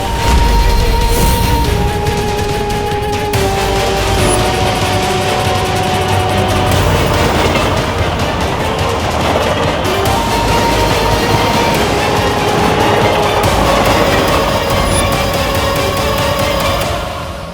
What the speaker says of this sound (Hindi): अब बस दोनों रेलों के टकराने में 500 गज की दूरी बची है।